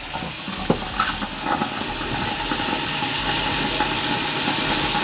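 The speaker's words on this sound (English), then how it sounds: "Now we got a nice steady stream of clean water coming out." Water runs in a steady stream from the bathroom sink faucet of a Newmar Freedom Aire 2515 RV, a continuous hiss with no voices.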